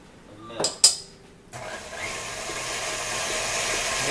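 Electric mixer whirring steadily as cake frosting is beaten with a splash of milk, starting abruptly after a couple of sharp clicks and running continuously to the end without any talking.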